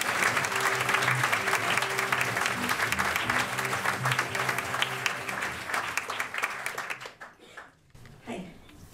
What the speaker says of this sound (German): Bitte klatscht sie auf die Bühne.